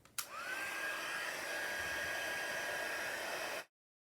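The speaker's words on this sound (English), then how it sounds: "I'm going to zoom you out and grab my heat tool again." A heat tool blows steadily over a watercolor landscape painting, switching on with a rising whine and then holding a constant airy hiss for about three seconds before cutting off, close and fairly quiet.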